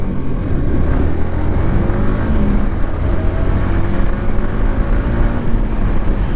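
A Yamaha R15M motorcycle is ridden while accelerating, its engine producing a loud, steady rising drone with faint climbing tones under wind rush. No talking.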